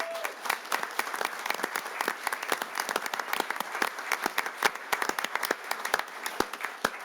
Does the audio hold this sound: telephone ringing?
no